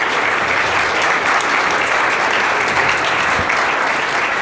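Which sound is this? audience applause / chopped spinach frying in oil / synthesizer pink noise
audience applause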